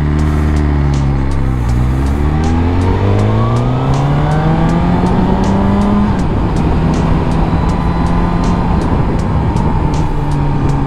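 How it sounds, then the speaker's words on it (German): A Suzuki GSX-R motorcycle rides into a curve, its engine loud and close, rising and falling in pitch as the rider goes through the gears, with steady wind roar and no talking. "das erste Mal mit der GSX-R in so eine Kurve reinfahren"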